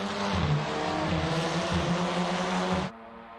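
Many race car engines roar together at high revs at a race start at Zandvoort in Assetto Corsa, a dense, continuous snarl that cuts off abruptly near the end.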